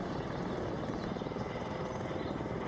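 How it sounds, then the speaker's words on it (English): A helicopter flies overhead at Skinwalker Ranch, its steady broadband rotor drone filling the scene at constant strength throughout, with no voices. "their tests are interrupted by a spooky helicopter"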